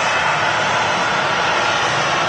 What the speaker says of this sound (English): Ryanair taxiing in front of us